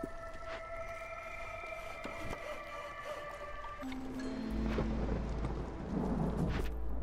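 Stormy weather in the colony-building game Against the Storm, with a rumbling thunder-like low roar swelling steadily beneath rain and scattered game interface chimes, getting louder toward the end.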